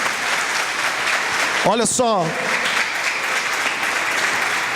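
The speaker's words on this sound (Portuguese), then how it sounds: "Dê um aplauso a Jesus." Church congregation applause during a Portuguese-language sermon, a dense, continuous roar of many hands clapping throughout, with a brief spoken exclamation from a voice over it.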